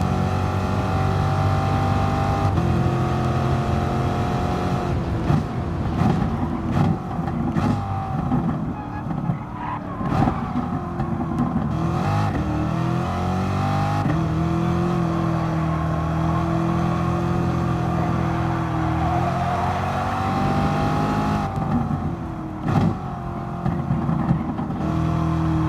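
Car engine in a racing video game on a victory lap with a Corvette C7 at the Nürburgring GP circuit, a steady loud drone with shifting pitch as it revs and changes gear, tires occasionally squealing, with faint talk over it.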